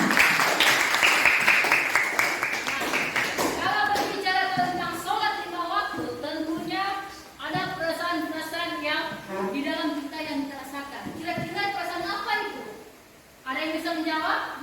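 Students applaud briefly in a classroom during an Islamic studies lesson: a few seconds of brisk clapping, then a voice speaks over the room, with short pauses and a few scattered claps.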